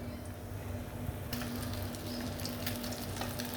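Sea bass fries gently in a pan over low heat, giving a faint, steady crackle and sizzle with soft scattered pops, quiet and close with no voices.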